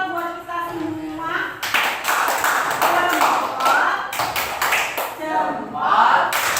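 A classroom of students joins in a rhythmic thumb-clapping routine, a burst of many hands clapping in patterned beats mixed with children's voices chanting along.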